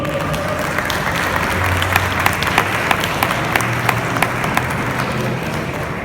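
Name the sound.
audience applause welcoming a panelist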